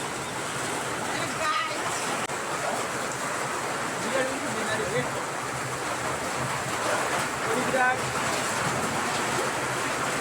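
Light rain falls outdoors during bad weather in the hills around Dodhara Chandani, heard from shelter under a shop shutter as a steady, even hiss that continues unbroken for about ten seconds.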